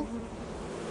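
Bees buzz steadily and close in the video game Lethal Company, a dense continuous drone with no talking.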